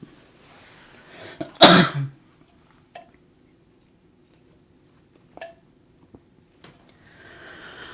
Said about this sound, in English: I thought I was going to get through it without coughing like that